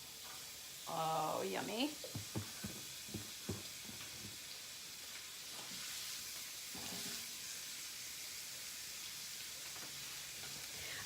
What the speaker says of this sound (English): I'm gonna throw it in a pan with olive oil. Listen for it.